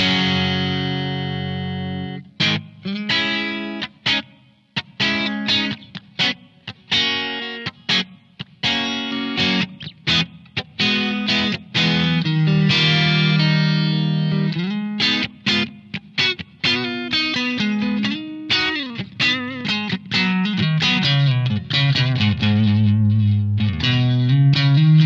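Electric guitar played through a Blackstar ID:Core V3 Stereo 40 amp with reverb added, heard alone as loud, continuous distorted phrases of notes and chords with effects-laden sustain.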